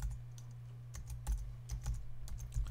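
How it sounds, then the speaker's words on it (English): Computer keyboard typing: a run of quick, light key clicks in an uneven rhythm, close up over a steady low electrical hum, with no voices. "you're going to type in YouTube"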